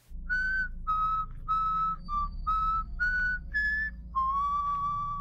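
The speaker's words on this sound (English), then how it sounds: "The videographer eventually begins to whistle, probably an instinct to calm himself down." A man whistles a slow tune of eight or so sustained notes, alone in the woods at night, close and clear over a low steady rumble.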